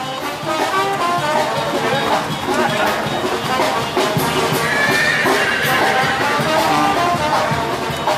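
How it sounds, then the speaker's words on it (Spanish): Horses neigh and whinny at a busy horseback parade, the 14th Cabalgata de la Amistad 2024 in Yautepec, with hooves clopping and crowd chatter mixed in over a steady, dense din throughout. "chulada de caballos"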